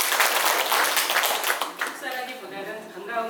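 A forum audience in Chungju, gathered for a debate on sustainable garden-city plans, claps briefly for a speaker, a quick burst of applause fading after about two seconds as a voice begins speaking.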